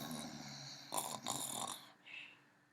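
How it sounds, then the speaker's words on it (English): A person snoring in sleep, a few soft, close breaths: a raspy inhaling snore followed by a snorting rattle and a shorter, quieter exhale, all faint and with no talking. "Sharie began to snore."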